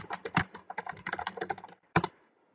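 Fingers tap a computer keyboard close by, entering a temperature value in a quick run of crisp keystrokes, then a pause and one final pair of taps.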